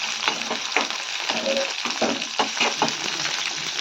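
Spices roast in a hot pan alongside coconut, a close steady sizzle broken by repeated scraping stirs, with a voice talking faintly underneath.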